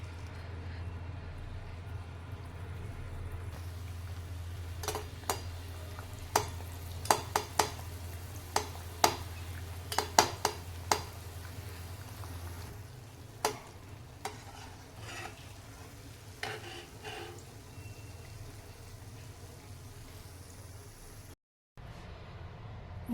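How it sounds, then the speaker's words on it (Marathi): Sugar anarse fry in oil over a low gas flame, giving a steady soft sizzle close by. Sharp clicks of a utensil against the pan cut through it, and the sizzle thins out in the second half. "आणि अगदी लहान गॅसवर मी हे अनारसे तळून घेणार आहे."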